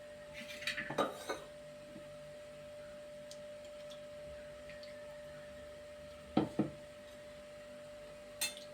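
A cooking pot lid is set down with a couple of quick metallic clinks. After a quiet stretch with a faint steady hum, two more clanks follow, then one last small tap.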